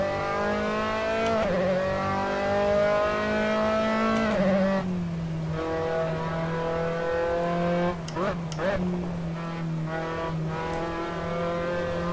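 A race car in the Assetto Corsa sim drives on grass to warm its tyres: a steady, loud engine drone holds a buzzy harmonic tone, dipping briefly in pitch and settling lower as it runs on.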